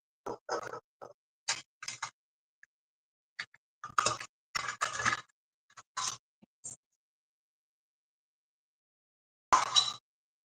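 Cookie dough scooped with an ice cream scoop onto a sheet pan for vegan chocolate chip cookies: a series of short, close scraping and clinking bursts in irregular clusters, a long quiet gap, then one last scrape.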